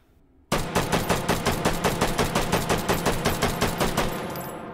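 A rifle fires 20 rounds of 7.62x51 in H3VR in rapid, evenly spaced shots. The loud, sharp cracks begin abruptly after a brief quiet start and continue steadily to the end.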